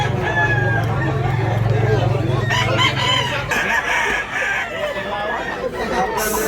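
A rooster crows loudly and close by, with harmonic calls sweeping over the first few seconds, while other fowl cluck and chatter around it and people talk in the background.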